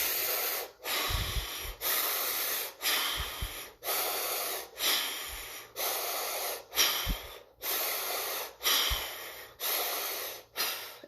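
Deep, slow breathing during a guided breathing exercise, about a dozen long hissing inhales and exhales in an even rhythm, close and intimate with no talking over them.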